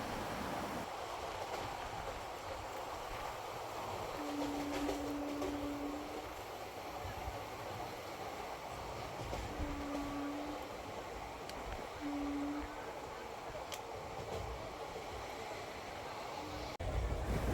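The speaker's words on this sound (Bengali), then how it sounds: "এখন 110 কিলোমিটার পার আওয়ারে আমাদের ট্রেন তার নির্দিষ্ট গন্তব্যের দিকে ছুটে চলেছে" Mayurakshi Express running between Howrah and Deoghar at about 110 km/h gives a steady broadband rumble and rattle throughout. A few short tonal whines rise above it midway.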